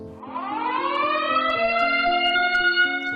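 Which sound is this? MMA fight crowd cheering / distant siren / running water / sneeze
distant siren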